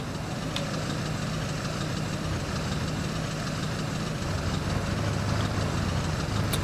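Diesel engine of a Ford F350 truck in SnowRunner, resembling a 7.3 liter Power Stroke, idling steadily with a low rumbling, knocking drone that holds at a constant loud level throughout.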